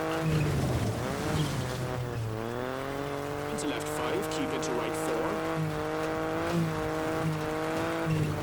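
A front-wheel-drive rally car in WRC 10 on a loose, low-grip New Zealand stage revs hard with lots of wheel spin, its engine note rising and falling with gear changes and occasional tire scrabble.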